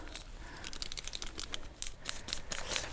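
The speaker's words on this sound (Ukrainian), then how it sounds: "Навіть розриваю пакетик, щоб кожна насінинка потрапила." Crinkly paper rustles and tears in quick irregular bursts, close by, as a small lavender seed packet is ripped open outdoors in snow.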